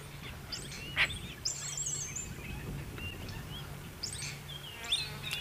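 Various wild birds call at a distance, with short chirps and trilling phrases scattered over a steady buzzing insect hum and low outdoor background noise.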